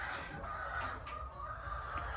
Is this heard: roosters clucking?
yes